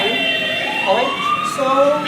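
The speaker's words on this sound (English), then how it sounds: "Here we can see there is traffic and also the emergency siren." A wailing emergency siren rises and falls above a low rumble of traffic, fairly loud, with a voice speaking briefly alongside.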